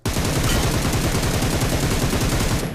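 Sustained automatic gunfire from the BGMI battle royale game, dense rapid bursts of shots running loud and continuous throughout with no talk.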